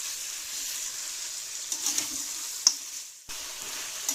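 Goat meat frying in a pan over a high flame hisses steadily, with a few clinks and scrapes of stirring and one brief dip in the sizzle.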